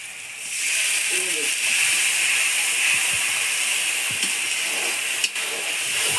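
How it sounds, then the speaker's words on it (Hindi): Masala tipped into golden fried onions in a hot pan gives a steady, close sizzling hiss that runs throughout, with a few faint clatters underneath. "अब मैं डाल रही हूँ इसमें मसाला"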